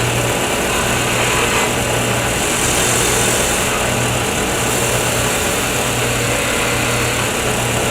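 A wood lathe spins steadily while a pen is turned, giving a continuous loud motor whine with a steady low hum and broadband hiss throughout, no pauses and no talking.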